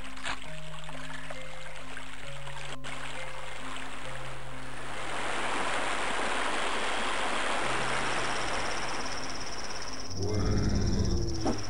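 In the video game Blood (Cryptic Passage), river water rushes and flows steadily beneath a soft synthetic melody of sustained tones, with a brighter swell near the end.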